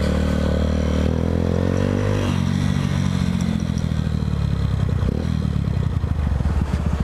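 A new motorcycle being ridden, with a loud, steady engine drone and a gear change partway through, accompanied by rattling and wind rumble close to the rider.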